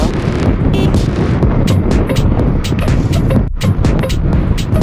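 A Mahindra Rodeo SX scooter engine runs close to the microphone, a rough, loud putter broken by gusty wind buffeting.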